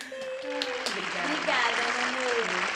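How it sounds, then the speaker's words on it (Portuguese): Steady applause from a crowd fills the clip, a dense wash of clapping with a voice talking over it. "Por favor, palmas para Nubiana Nolasco."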